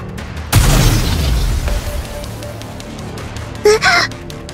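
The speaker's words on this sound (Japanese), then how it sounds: "榴弾か。" A single loud, deep boom erupts from a grenade blast in an anime-style story-mode video game, with its low rumble fading over about a second, followed later by two brief chirpy bursts.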